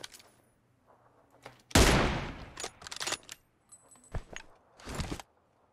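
Bursts of gunfire in PUBG Mobile, a few sharp loud volleys with gaps between them, close and clear with no talking.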